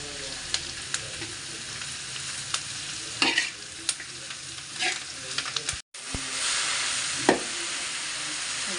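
Greens and shrimp stir-frying in a pan, a steady hiss of sizzling oil broken by scattered scrapes and clacks of the spatula, one brief dropout midway before the sizzle resumes.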